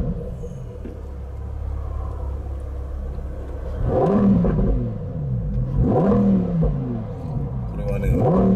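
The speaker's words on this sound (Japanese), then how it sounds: "エンジンスタート。" A Lamborghini Huracán Performante Spyder engine cranks and fires, then revs sharply several times, each rev swelling to a loud, close roar before dropping back to a rumbling idle.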